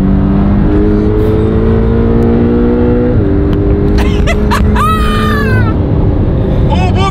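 A Porsche engine pulls hard and loud throughout, its pitch climbing through the revs with a clear shift near the middle, followed by sharp high squeals.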